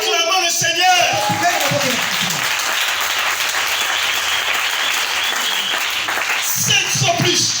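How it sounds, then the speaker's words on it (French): Congregation in a tabernacle church applauding and cheering the Lord, sustained loud clapping from a large crowd with shouts and voices mixed in throughout. "Acclamons le Seigneur."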